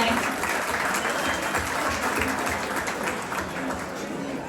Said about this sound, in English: give yourselves a round of applause for how good everybody looks tonight